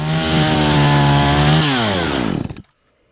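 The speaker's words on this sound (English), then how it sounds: "Chainsaw." Chainsaw running at full throttle, loud and close as it cuts, its pitch dropping under load, then the engine winds down and stops abruptly into silence.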